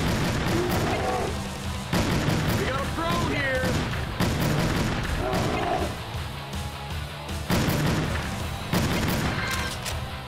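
Gunshots ring out at intervals during hunting in the video game Cabela's Dangerous Hunts 2011, with sharp booms over a constant background of game music and effects, while a person talks throughout.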